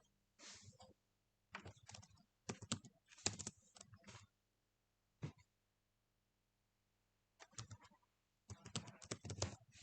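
Someone types on a computer keyboard in quick, close clusters of keystrokes separated by short silent pauses, with no talking.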